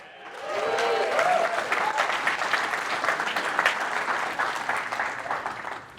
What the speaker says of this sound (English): Thank y'all for those applause